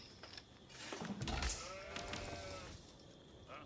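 Sheep bleat in the Age of Empires IV real-time strategy game, a couple of short wavering calls amid soft in-game ambience, fairly faint and without talk.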